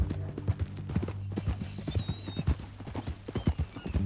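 Horse hooves clip-clop in a steady walking rhythm in the video game Red Dead Redemption 2, close and clear, with a brief whinny-like tone and occasional game voices in the background.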